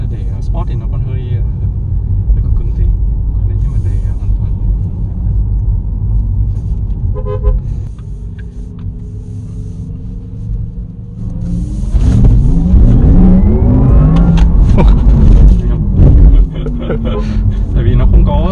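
A black Porsche Taycan Turbo electric car accelerates hard, heard from inside the cabin: steady road rumble swells into a rising electric whine and a louder surge toward the end.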